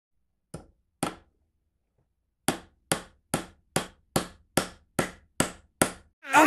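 Sharp hammer strikes ring out: two isolated blows, a pause, then a quick regular run of about nine evenly spaced knocks, close and crisp with quiet gaps between.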